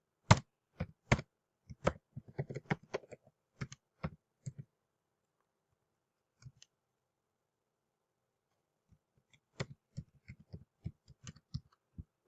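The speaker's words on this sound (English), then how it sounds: "I'm gonna just type down any." Keys tapped on a computer keyboard while entering a Gmail address, irregular bursts of crisp clicks close up, a quiet pause in the middle, then another run of typing.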